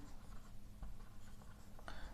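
Marker or chalk scratching across a classroom board during a physics lecture, a few short strokes close by with no talking over them.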